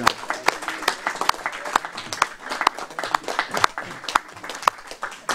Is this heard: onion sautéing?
no